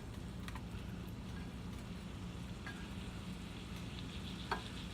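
Steak fries in hot fat in a pan, giving a steady, dense sizzle and crackle throughout, with a few sharper pops near the end, close and moderately quiet, with no voices.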